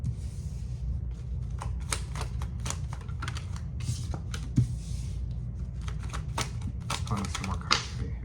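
Tarot cards handled at close range, with rapid papery flicks, slaps and shuffling clicks scattered steadily across the span.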